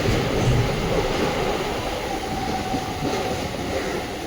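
A Mumbai local train on the harbour line, running out of CSMT, pulls away with a steady, close, broadband rumble and rattle of carriages. The noise holds evenly throughout and no one speaks.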